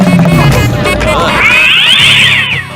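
Cartoon cats in a Motu Patlu animated comedy meow loudly in a crowded, overlapping chorus, with a long rising and falling cry running through dense music and effects.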